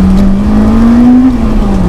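A Honda Integra Type R DC5 driven on a wet road in the rain with understeer and wheel spin, its engine droning steadily and rising slightly in pitch, over a broad hiss of tyre and road noise.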